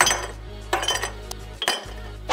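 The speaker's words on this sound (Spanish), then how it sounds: "Unos hielos." Ice cubes clinking and clattering into a glass for an apple michelada, several sharp glassy drops in bursts over a steady low hum, close and fairly loud with no talk.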